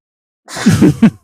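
A single sharp human sneeze bursts out after a moment of silence, loud and close, followed by short throaty aftersounds.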